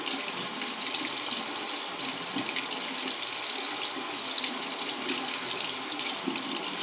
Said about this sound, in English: Remember to make sure you rinse it really well, all that soap off.